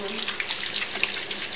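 Running water pours steadily from a tap while hair is rinsed, a continuous close splashing hiss with small spatters throughout.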